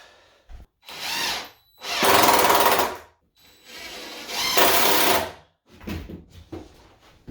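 A power drill drives a screw into window trim and casing in a series of loud, close whirring bursts, some long and some short, with pauses between them.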